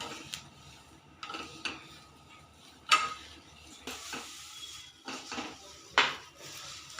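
Fresh green curry leaves roast in a pan while a spoon stirs them, with scrapes and clinks against the metal over a faint background sizzle.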